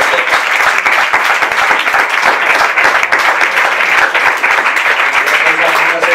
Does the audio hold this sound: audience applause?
yes